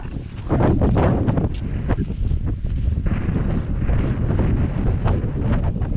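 Gusts of wind buffet a GoPro Hero 7 with a Saramonic mic in heavy, rumbling bursts that swell and ease continuously, loud and close.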